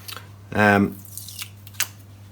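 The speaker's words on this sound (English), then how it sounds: "Okay, this is where we peel the project off." Paper pattern peeled off a scroll-sawn wooden Halloween project, held on with silicone glue: one sharp, close ripping peel lasting about half a second, followed by a few faint rustles.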